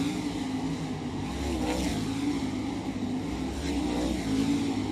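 A late model dirt race car on a hot lap at I-70 Motorsports Park roars steadily at full throttle, a broad, continuous engine drone heard from some distance with no talk.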